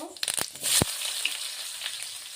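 Cumin seeds and a little chopped onion hit hot oil in a pan, giving a sharp burst of crackling and spitting followed by a steady sizzling hiss.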